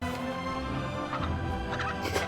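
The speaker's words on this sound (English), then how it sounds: "Oh, poor chicken." Cartoon chicken in the animated film Klaus, a short burst of fowl-like clucking calls set against a steady bed of orchestral film score, fairly faint throughout.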